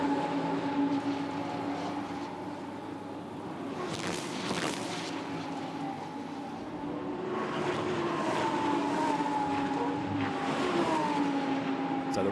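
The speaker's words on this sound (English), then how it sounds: "is about to make a move on the inside with Lorenzo Veglia down towards La Source" Lamborghini Super Trofeo race cars at Spa, heading down toward La Source, roar past in a steady, loud engine drone with rising and falling pitch as they pass, no talk over it.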